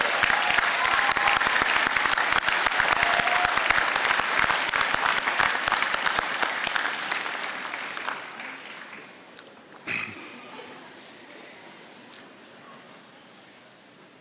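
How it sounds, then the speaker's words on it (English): Sustained applause from a graduation convocation audience honoring families and friends, a dense roar of clapping that tapers off over several seconds into a quieter hall with scattered claps and a single bump. "give them a round of applause for supporting your journey"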